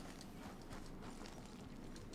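Horse hooves in Red Dead Redemption 2, a very faint, steady clip-clop of a horse moving at an even pace, with no talking over it.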